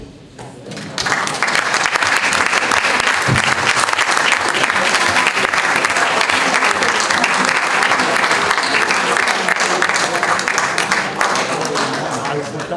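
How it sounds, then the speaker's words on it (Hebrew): An audience at a ceremony marking 70 years since the arrival of an immigrant ship applauds, the clapping starting after a brief moment and holding loud and dense, a steady crowd ovation with some voices mixed in. "להודות לו על מעשיו במחיאת כפיים"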